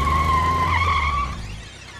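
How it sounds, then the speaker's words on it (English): A cartoon car skids to a stop with a loud, sustained tire squeal of about a second and a quarter that then cuts off, leaving a quieter rumble. "Trap, stop the car."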